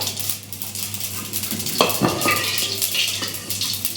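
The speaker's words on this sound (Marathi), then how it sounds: "आता हे मोहरी छान तळून द्यायची आणि मग टाकायचं जिरे" Mustard seeds fry in hot oil in a kadai, a close steady sizzle and crackle with a few clinks of a spoon stirring against the pan.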